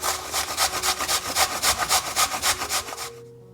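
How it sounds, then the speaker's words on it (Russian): Raw pumpkin scraped over a coarse grater in a steady run of about fifteen rhythmic rasping strokes, close and loud, stopping abruptly near the end with no talk. "Ее натрем на крупной терке или на терке среднего размера."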